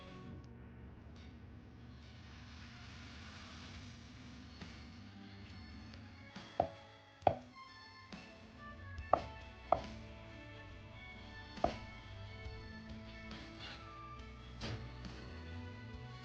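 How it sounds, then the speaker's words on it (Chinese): A knife cuts tofu into thick slices and then coarse strips on a board, giving a handful of sharp, irregular chops over a quiet background with no talk. "先切成大块，然后再切成片，这个稍微偏厚一点，不用切得太薄，然后再切成粗条"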